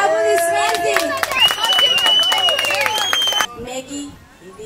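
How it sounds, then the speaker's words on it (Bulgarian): Guests clap at a wedding ceremony in Lom while music with sustained tones plays loudly over them, then the clapping and music cut off abruptly near the end. "Да, аплодисменти!"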